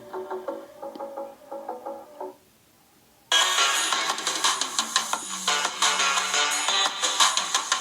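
Music plays through the loudspeaker of a Nubia Music phone: a short patterned tonal section, a brief near-silent gap, then a dense, louder passage with clear treble and steady beats running to the end, no talking.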